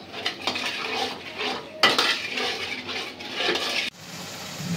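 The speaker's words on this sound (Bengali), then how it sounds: "এখন সব মশলা ভালো করে কষে তারপরে ঝোল দিব" A spoon scrapes and clatters against a pan as spices are stirred and fried down before the gravy goes in, with irregular close metallic knocks and bursts of stirring noise.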